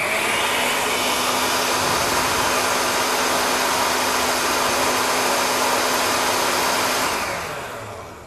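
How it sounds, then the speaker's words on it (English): An immersion blender whirs steadily while blending hollandaise sauce, a loud continuous buzzing drone holding for about seven seconds before cutting off and trailing away. "Now I'm going to blend that up."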